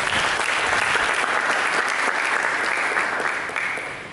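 Church congregation applauding, steady loud clapping from many hands that holds for about four seconds and tapers off at the end.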